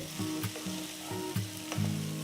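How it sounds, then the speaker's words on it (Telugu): Mashed potatoes stirred in a hot kadai, a close steady sizzle with a few soft scraping strokes of a spoon against the pan. "ఇదంతా కడాయిలోకి వేసి ఒక్కసారి కలుపుతున్నాను"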